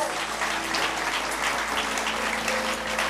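A church congregation claps and cheers in a sustained, dense round of applause that fills the hall evenly from start to finish.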